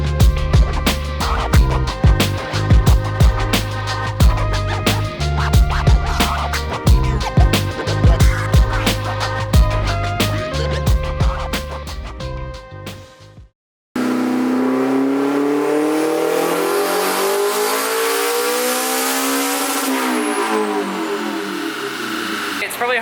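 A turbocharged Honda S2000 engine on a dyno, first running with choppy bursts and pulses, then after a brief gap sweeping up in revs in a smooth loud pull under heavy fan noise.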